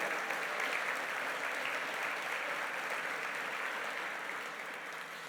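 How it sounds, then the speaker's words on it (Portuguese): A church congregation claps for Jesus during a Portuguese-language service, a dense, even wash of applause that holds steady throughout and fades slightly at the very end. "Então dá uma salva de palmas ao Senhor Jesus"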